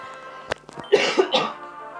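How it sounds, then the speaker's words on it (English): A person coughs a few times in quick succession, close and fairly clear, a short harsh burst followed by rougher throaty coughs, with nothing else heard. "Please excuse my coughing."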